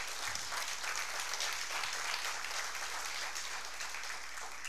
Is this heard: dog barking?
no